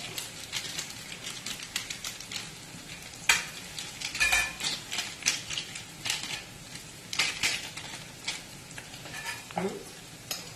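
Sliced onions sizzle softly in a pan for Kerala-style beef fry while a spatula stirs them, with a steady frying hiss broken by close scraping and clicking strokes.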